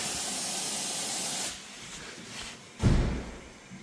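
A close blast of hissing air blown into a fuel tank to find a leak, lasting about a second and a half, then quieter noise and a sudden louder rush that fades.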